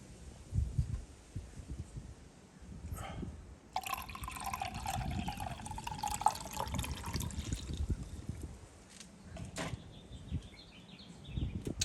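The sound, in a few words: water being poured into tank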